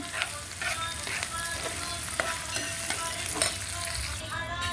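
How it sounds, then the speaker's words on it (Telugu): Green chillies fry in oil with a close, even crackling sizzle and occasional light stirring taps, with no one talking. "ఈ పచ్చిమిరపకాయలు వేగినప్పుడు కొంచెం సాల్ట్ వేస్తాను"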